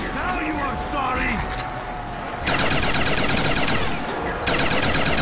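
Rapid gunfire in a zombie video game, dense bursts of shots running throughout and growing louder partway through, with people talking over the shooting.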